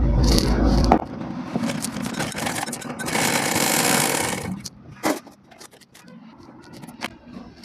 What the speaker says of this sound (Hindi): तो चलिए इस पर सिलाई लगा लेते हैं।